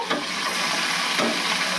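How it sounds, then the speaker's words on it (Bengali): Cauliflower florets fry in oil in a pan, giving a loud, steady sizzle broken by a few scraping stirs, heard up close with no voices. "এবারও এই কপিগুলোকে এরকম ভালো করে সুন্দর করে ভাজতে হবে"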